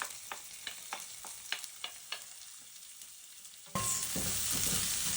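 Garlic, minced ginger, onions and Scotch bonnet fry in a few tablespoons of oil over low heat, with a run of sharp utensil taps against the pan followed by a sudden, loud, steady sizzle as more ingredients go in.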